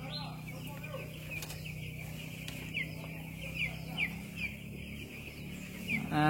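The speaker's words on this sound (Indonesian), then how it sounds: "Jadi anak ayam bangun dan bergerak mencari tempat makan dan tempat minum." Young broiler chicks in a brooder during their first week, faint cheeping and soft rustling as they move about in a quiet, close, low-level scene.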